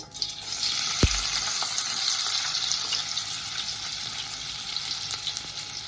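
Chopped onion dropped into hot oil in a pan for a clam curry, a sudden thump followed by a steady, bright sizzle that carries on close and loud throughout.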